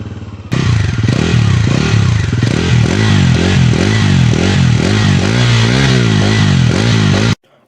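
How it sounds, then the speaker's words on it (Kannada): A Bajaj Pulsar NS400 motorcycle exhaust, loud and close, with a sudden start and a sequence of rising and falling revs over a steady idle before it cuts off abruptly. "ಇದ್ರ ಎಕ್ಸಾಸ್ಟ್ ಸೌಂಡ್ ಕೇಳೋಣ ಬನ್ನಿ"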